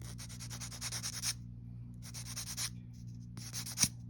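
Sanding a plastic part from a Palmer Plastics Porsche 356 model kit, heard as close, dry rubbing strokes in two short bursts separated by a pause, then a brief scrape and a small click.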